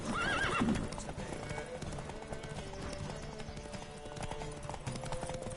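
A horse whinnies loudly at the start in the video game The Witcher 3: Wild Hunt, then hooves clip-clop in a rapid galloping rhythm during a race beneath a steady background wash.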